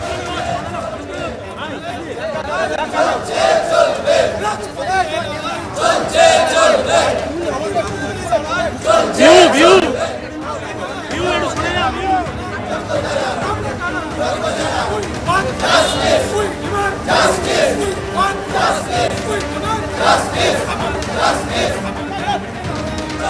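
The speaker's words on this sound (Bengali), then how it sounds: "এইভাবেই স্লোগান দিতে দিতে কিছুক্ষণ আগে চাকরিহারা শিক্ষক শিক্ষিকারা তারা ঢুকলেন বিকাশ ভবনে বৈঠকের জন্য" Dismissed schoolteachers protesting outside Bikash Bhavan chant slogans in rhythmic unison, a loud sustained crowd roar with shouting voices throughout, heard from close within the gathering.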